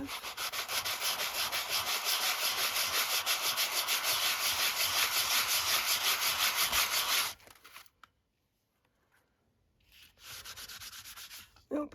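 Steady, loud abrasive sanding rubs across a texture paste masterboard for about seven seconds, then stop for a near-silent pause before a shorter burst of sanding resumes at the end.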